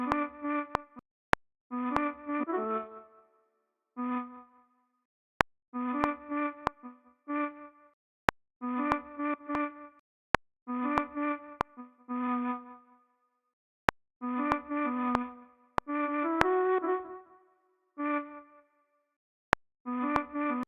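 Short breathy flute phrases recur in a melody being edited for an Afropop or Amapiano production, broken by gaps and small clicks as notes start and stop, up front and alone with no voices.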